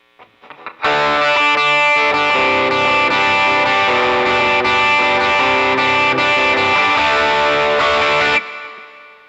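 Electric guitar played through a NUX Mighty Plug headphone amp with a Tube Screamer pedal in front, a loud sustained overdriven chord ringing for several seconds before being cut off.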